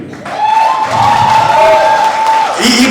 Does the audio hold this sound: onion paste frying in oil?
no